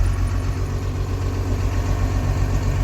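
Dodge Dakota truck with a swapped 12-valve diesel engine, S300 turbo and 48RE transmission, running steadily while being tuned for heavy smoke at the top end; a continuous low, throbbing rumble, close and loud, with no talking.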